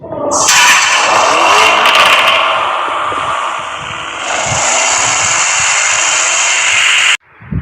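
Lamborghini Urus with a twin-turbo 4-litre V8 and eight-speed automatic launching hard, a loud close roar that climbs in pitch, shifts and keeps pulling before cutting off abruptly, with no talking.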